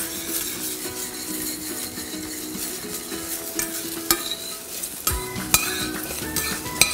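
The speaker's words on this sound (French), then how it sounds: "ils commencent un petit peu à griller" Food sears in a hot pan, browning hard enough that no moisture gets in, with a steady close sizzle broken by a few sharp clinks of utensils against the pan.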